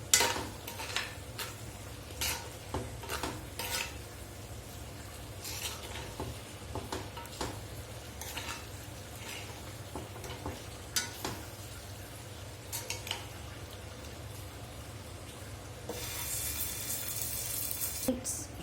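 Chicken wings sizzle and fry in a pan with garam masala, with repeated scraping and clinking of a spoon stirring against the metal, close and steady, the sizzle swelling louder near the end.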